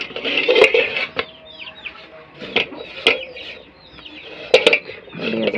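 Chickens cluck and squawk nearby while seeds are tossed in front of them. Short clucks come in bursts with quiet gaps, and faint chirps sound between them.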